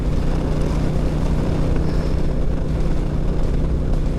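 Aircraft engine drone, steady and loud, from an airplane in flight with a human body trapped in its landing gear; a continuous low rumble with wind noise, no talk.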